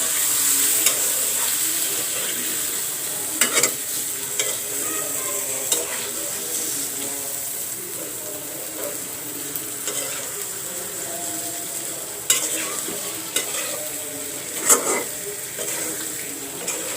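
Hilsa fish pieces frying in a pan, a continuous bright sizzle with intermittent louder spits and utensil clatter, a faint watery trickle in the background, no voices.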